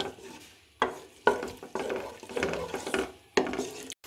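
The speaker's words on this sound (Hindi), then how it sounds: "अब मैं इसमें प्याज शामिल कर दूंगी और प्याज को लाइट ब्राउन कर लूंगी।" Onions frying in hot oil in a kadai while being stirred, a steady close sizzle broken by several sharp scraping and clattering stirs.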